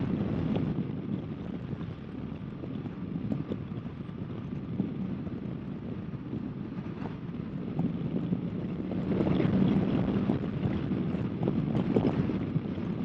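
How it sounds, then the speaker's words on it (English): Constant windy rush with low rumble during a 2018 Kawasaki Vaquero motorcycle ride, steady throughout and swelling slightly toward the end, no talking. "it is a windy, windy day today"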